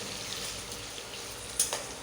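Chopped onions sizzle and crackle softly in hot oil with popped mustard seeds and curry leaves, a steady frying hiss with a couple of brief sharper pops near the end.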